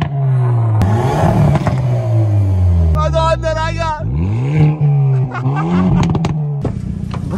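A car engine revs hard and repeatedly, pitch climbing and falling in loud surges, close by, with excited voices talking over it.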